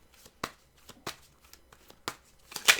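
Tarot cards being shuffled by hand, a series of quiet, crisp riffling bursts spaced irregularly about half a second apart, ending with a slightly louder flurry.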